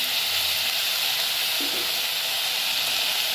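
Two chopped tomatoes sauté in a pan with onions for mutton gravy, a steady close sizzle with a soft stir or two, and no talking over it.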